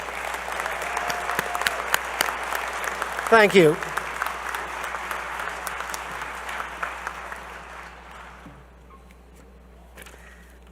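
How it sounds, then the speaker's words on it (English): Applause for new graduates at a university commencement, a crowd clapping steadily before gradually thinning and fading out, with a voice briefly speaking and a short microphone sweep partway through. "One final round of applause for our newest group of alumni for Dakota State"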